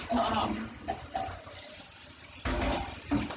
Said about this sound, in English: the cold water run directly into the pan in order to cool the eggs down